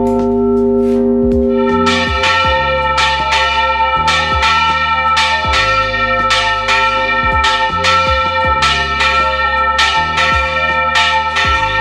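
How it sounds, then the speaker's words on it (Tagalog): Church bells of Santiago ring loudly and continuously, several bells struck in an overlapping rhythmic peal with long ringing tones and no talking. "pakinggan natin muli ang mga tunog ng kampana"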